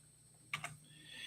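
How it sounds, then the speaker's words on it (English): Two quick, quiet keystrokes tap on a computer keyboard against a faint steady hum, with no voices. "I gave you an example of my typing skills"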